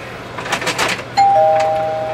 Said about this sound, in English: Oh, we have the doorbell.